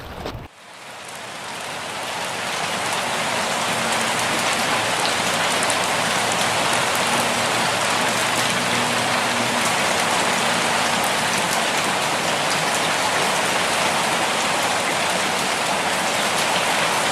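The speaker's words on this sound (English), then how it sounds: "See if this rain kind of passes, because I really don't feel like getting soaking wet." Steady, dense rain pattering onto water and the surface of a dock, a constant close hiss that fills the whole stretch after a brief start, with no voices.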